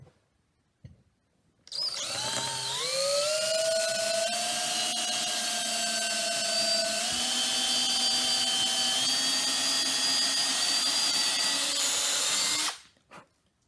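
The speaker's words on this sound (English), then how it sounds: "I'm going to drill it right where they left these marks" A power drill bores a hole into a wooden piece for a homemade Halloween mace handle, a loud steady whine rising in pitch as the motor spins up, holding for about ten seconds before stopping.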